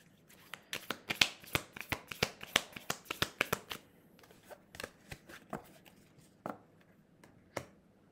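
Tarot-style playing cards shuffled by hand in a rapid burst of crisp riffling snaps, close and fairly quiet, thinning into a few scattered flicks and taps toward the end with no talking.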